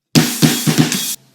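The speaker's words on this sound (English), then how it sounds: "we're going back into the groove again with the open hi-hat." On a drum kit, a fill leads back into the groove with an open hi-hat, giving a few loud, close washy hits layered with kick and snare before cutting off.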